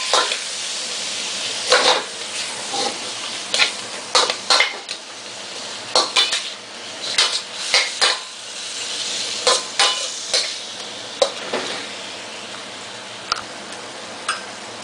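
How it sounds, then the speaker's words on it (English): Onions for chop suey fry in a pan under a soft continuous sizzle, while a utensil scrapes and clanks against the metal in irregular stirring strokes, close and fairly loud with no talking. "Next we're going to toss in some onions and let them go till they're just opaque."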